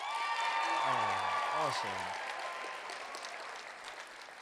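An audience at a state keynote event breaks into sustained applause, a dense wash of clapping that slowly thins, with a short spoken remark heard over it near the start.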